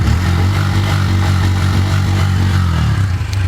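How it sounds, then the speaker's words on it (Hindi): A Bajaj Pulsar N160 with a 2-valve engine idles close by, giving a steady, even rumble with a light mechanical clatter and no voices over it. "देखिए ये 2V इंजन का साउंड।"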